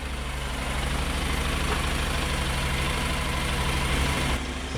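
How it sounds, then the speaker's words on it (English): A Honda NC750X motorcycle engine idles steadily after a coolant change, a close, even, low rumbling throb that holds for several seconds with no talk. "It's time to put the cap back on and run the engine for a couple of minutes."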